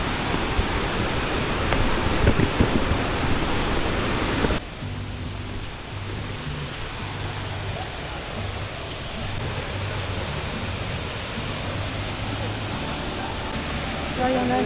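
A waterfall at the foot of a stone stairway in Bali, near rice fields, roars as a loud, steady broadband rush that drops slightly in level partway through, then holds a continuous wash, with faint low hum beneath.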